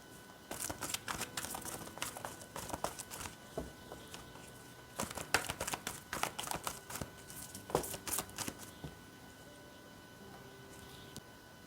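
Angel oracle keyword cards are shuffled and handled, producing soft irregular flicks, taps and papery crinkles up close, quiet with no talk.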